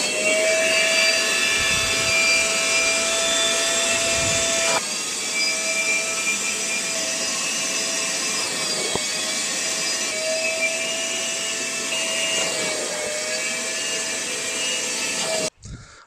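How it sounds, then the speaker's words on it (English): A wet vacuum runs loud and continuous for about fifteen seconds, sucking dirt and shampoo out of car floor mats from a Mitsubishi Legnum VR4, then cuts off abruptly at the end. "I'm going to vac it just to see how filthy they are."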